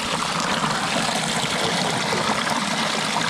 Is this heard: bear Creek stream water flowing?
yes